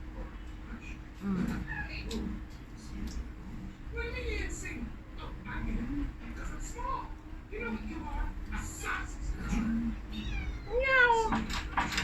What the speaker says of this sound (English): The cat wants to feed.